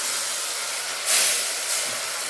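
Hot sesame oil poured over chili powder and curry leaves for a homemade pickle, giving a steady bright hissing sizzle that swells briefly near the middle, with no talking.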